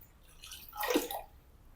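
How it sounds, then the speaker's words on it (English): Water poured from a container into a KitchenAid stand mixer bowl while mixing sourdough: a short, soft splashing pour that swells to a peak and then fades, heard alone and fairly quiet. "I'm going to put all the water in"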